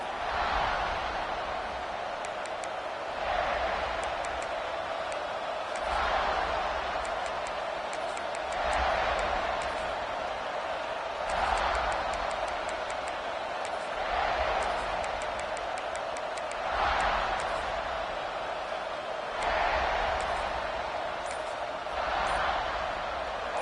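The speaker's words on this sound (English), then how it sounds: "This crowd ready to make its presence known." Stadium crowd in an NCAA college football video game, a broad roar that swells in repeated waves of cheering at a moderate distance, with a steady background hum.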